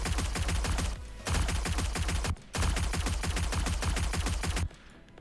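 Fully automatic SMG fire in a video game, loud, dense bursts of rapid shots with two short pauses between three long strings of fire.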